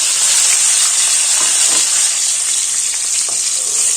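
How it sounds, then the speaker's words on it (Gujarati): Raw banana pieces sauté in hot oil with a loud, dense, continuous sizzle and hiss, with faint stirring touches underneath, close and steady for the whole stretch. "હળવા હાથે તેલમાં આપણે બધા કેળા છે તે પેલા સાતડી લેવાના છે"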